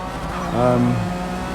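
A McLaren F1 GT in a racing video game at Laguna Seca gives a steady engine drone that swells briefly in the middle with a rising tonal whine, then settles back.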